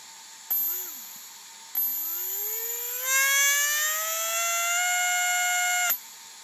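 Electric motor of an RC car under throttle, a whining tone rising steadily in pitch as speed builds, with a brief chirp first and a strong, close, sustained whine that cuts off abruptly.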